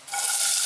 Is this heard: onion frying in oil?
yes